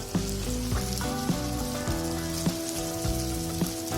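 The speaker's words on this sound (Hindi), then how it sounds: "तेल गर्म हो गया है, अब इसमें इस तरह से धीरे से बड़ा कर देना है" Semolina vada batter drops into hot oil and fries with a dense, continuous crackling sizzle, close and fairly loud, with a few soft taps of a spoon against the pan and no voices.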